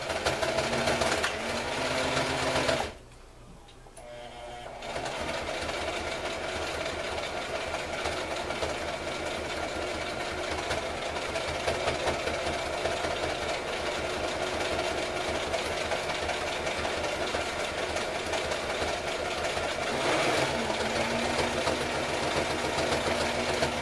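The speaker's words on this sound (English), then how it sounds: "let's start sewing the sides up" A sewing machine stitches up the sides of a canvas haversack, running with a continuous rapid mechanical chatter that pauses briefly near the start, then resumes and keeps going steadily, close and alone.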